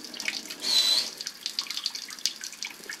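Water gushes and splashes out of a pipe during a test of a dual sump pump setup. The hiss of running water is close and continuous, peaking briefly before settling into a steady, spattering flow.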